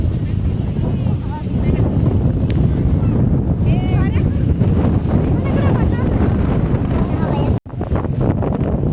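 Wind gusting outdoors buffets the microphone in a constant loud rumble, with a person's voice faintly audible beneath the roar.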